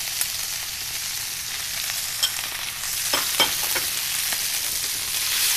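Meat frying in a hot pan with garlic and ginger, a steady close sizzle with crackling spatters that grows busier and louder partway through, with stirring noises and no speech.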